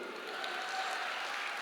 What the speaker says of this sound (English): You can clap now also.